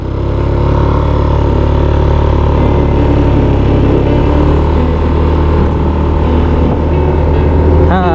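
A small motor engine hums steadily and loudly throughout, like a scooter cruising along, with a faint higher whine near the end.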